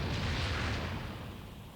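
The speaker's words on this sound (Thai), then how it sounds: "โลกระเบิด" The Earth explodes in the Dragon Ball Z Kakarot video game as one dense, deep roaring rumble that fills the whole moment and slowly fades, with no talk over it.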